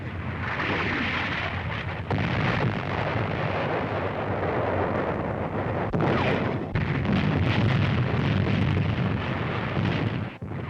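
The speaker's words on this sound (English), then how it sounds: "American artillery finds targets with an accuracy that astounds the Germans" American artillery fire and shell explosions in North Africa during WWII, a dense, continuous roar of booms and rumbling blasts heard loud and close in an old archival recording, with no voices.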